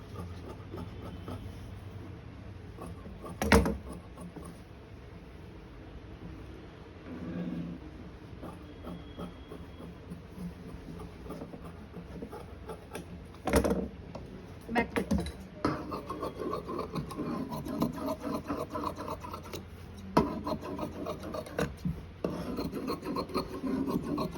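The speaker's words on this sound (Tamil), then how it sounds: "இங்கே பாருங்கள், பேக் தட்டு வெட்டுறேன்." Scissors cut through blouse fabric for a back panel, a steady rasping, rubbing crunch of blades on cloth that continues through the span with a few sharper snips, no voices over it.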